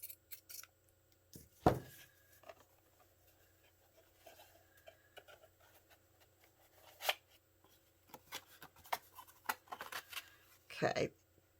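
Scissors trimming fabric for a file folder folio journal cover, a handful of short crisp snips spread across the clip, close and quiet, with soft rustling of material and a person talking.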